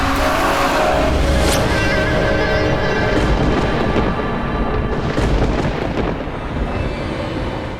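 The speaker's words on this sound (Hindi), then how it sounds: "चल गाड़ी चला" A car engine roars loudly and close as the vehicle pulls away, a continuous heavy rumbling drive-off sound with no talking over it.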